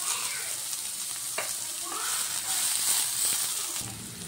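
Onion and green chillies fry in hot oil, a continuous close sizzle with a few stirring scrapes and clinks over it.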